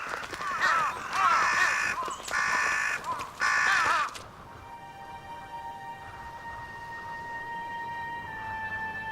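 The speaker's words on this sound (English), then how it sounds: "The angry crows are left squabbling over scraps" Several crows caw harshly in bursts over the first few seconds while squabbling over a frozen carcass in Hokkaido, then a quieter stretch of faint outdoor ambience with distant birds.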